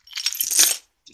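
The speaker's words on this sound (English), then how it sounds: "I'm going to add it to my keys as well, just to show you guys." Metal keys on a keyring jangle as another metal keyring is threaded on, a brief close clinking burst lasting under a second, then quiet with a faint tap at the end.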